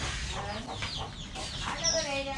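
Chickens clucking in a farmyard, a continuous mix of short clucks and calls at moderate loudness with no clear gaps, some faint vocal sounds mixed in.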